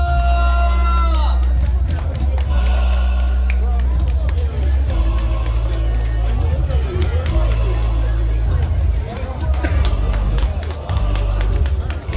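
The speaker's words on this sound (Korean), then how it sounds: "여러분 큰 박수 주세요." A crowd at an outdoor cheerleading performance in Tongyeong claps and cheers for a university cheer squad, loud and continuous, mixed with hubbub, thumping low-end music and a voice over the noise.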